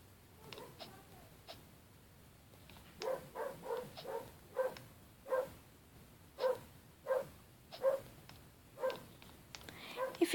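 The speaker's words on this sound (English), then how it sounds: "If you can hear my cousin's dog in the back, I'm sorry about him." A dog barks in the background in a steady series of about a dozen short, evenly spaced barks. The barking is moderately distant and heard alone, with no talk over it.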